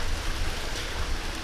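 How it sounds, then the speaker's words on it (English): Steady rain falling outdoors, a dense even hiss of drops close around the microphone with no break across the short stretch. "We are out in the rain"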